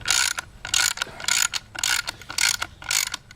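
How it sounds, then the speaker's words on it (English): A ratchet cranks a 5/16-inch, 1-inch-long bolt with a fender washer into a T-nut, giving a series of loud, close, rapid clicking bursts in a regular back-and-forth rhythm with short pauses between strokes. "Take our ratchet,"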